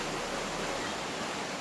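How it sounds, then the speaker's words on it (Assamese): Steady broadband rush of the Tipi waterfall tumbling into a river, a dense unbroken roar filling the whole moment, close and fairly loud with no other sounds standing out. "আমি বৰ্তমান আছোঁ এতিয়া টিপি ৱাটাৰপুলত"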